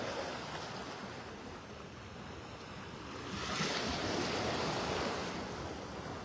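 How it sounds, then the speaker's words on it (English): Water churning and splashing at night in knee-deep water where fish are jumping, a continuous wash with a louder surge midway through, no voices. "there's a ton of fish jumping in the water out here"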